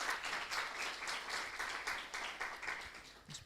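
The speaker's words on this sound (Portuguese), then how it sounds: "uma salva de palmas para eles" Audience applause following a first round of a participatory activity, a steady wash of many hands clapping at moderate distance for the full stretch, fairly soft overall with a slight fade at the end.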